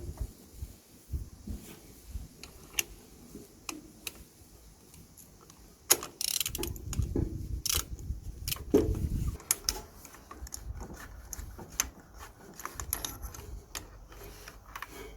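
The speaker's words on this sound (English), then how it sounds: "So that's the spark plug nicely being pulled out." A ratchet socket works a spark plug out of a Suzuki SV650 motorcycle engine, giving close, irregular mechanical clicks and scraping that grow busier and louder in the second half, with no talking.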